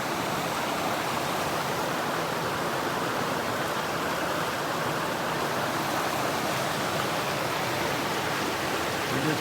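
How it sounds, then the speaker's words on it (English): A river flows steadily along a hiking trail in Maine, giving a dense, constant rushing wash of water that stays loud and even throughout, with no voices. "Look at this river."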